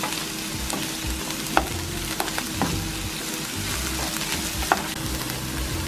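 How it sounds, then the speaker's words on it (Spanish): Chopped onion frying in a pan while being stirred, a steady close sizzle with occasional sharp scraping clicks of the utensil, no voices. "luego coloco la cebolla. Y voy revolviendo."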